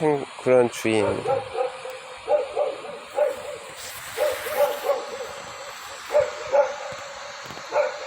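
A dog barks somewhere nearby in short repeated bursts spread across the moment, at moderate distance, while a person talks over it.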